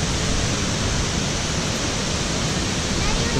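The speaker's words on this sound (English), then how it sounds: "Here's the waterfall." Waterfall at the Tolantongo grottoes in Mexico, a loud, steady, unbroken roar of falling water close by, dense and even throughout with no pauses.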